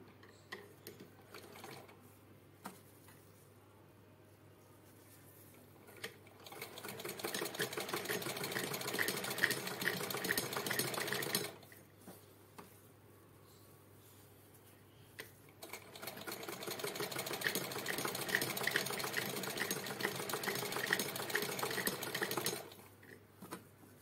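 A sewing machine stitches a reversed zip onto a cloth pouch made from old fabric, with two long runs of fast, even mechanical whirring and quiet pauses between them, close up and without talk.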